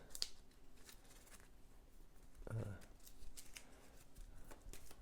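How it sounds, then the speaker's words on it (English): Quiet papery riffling of cards being shuffled, with soft rustles and a short sharp flutter midway, low room noise throughout. "So we'll shuffle these."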